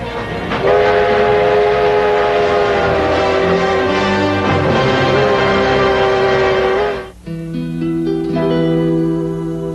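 A train rumbles loudly with a long, steady horn blast sounding over it for several seconds, then lower horn tones after a brief pause.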